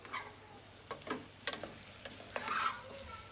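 Brinjal coated in masala fries slowly over low heat while a spoon stirs it in the pan, giving scattered scraping strokes and soft sizzling bursts, close and clear with no talk.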